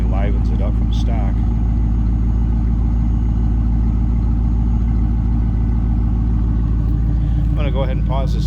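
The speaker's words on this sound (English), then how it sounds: "Like I said, the Corsa exhaust. Nice little rumble coming out of that." A 1999 Pontiac Firebird Trans Am 30th Anniversary with a Corsa exhaust rumbles steadily at idle, a deep, loud, continuous low drone throughout, with brief voices near the start and end.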